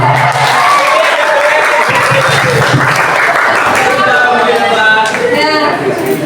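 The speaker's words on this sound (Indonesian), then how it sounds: "Tepuk tangannya dong." An audience in a school classroom claps steadily at the close of a group presentation, a dense continuous patter of many hands that holds at an even, fairly loud level throughout.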